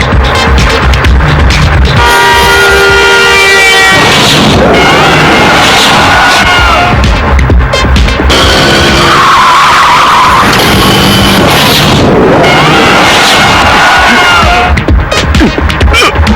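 A car driven hard and skidding, with loud, sustained tire squeals and engine roar continuing throughout at close range, in a film action scene with a faint crowd in the background.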